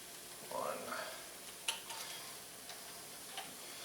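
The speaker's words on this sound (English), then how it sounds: "I still hear it sizzle a little bit more than I want" Pulled pork sizzling gently in a pan with chili garlic sauce, a faint, steady crackle broken by a few soft ticks and clicks, quiet and without speech.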